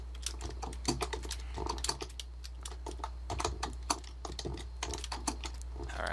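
Computer keyboard keys clatter rapidly and irregularly during Minecraft play, with quick taps and heavier hits, close and fairly quiet over a low steady hum, no voices.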